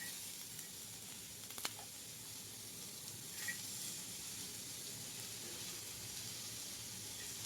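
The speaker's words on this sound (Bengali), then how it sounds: "এটা হালকা ভাজা ভাজা হয়ে গেলে এর ভিতর দিয়ে দেবো রসুনগুলোকে।" Onions frying in a pan make a faint, steady sizzle and hiss with a couple of small clicks, and no one speaks.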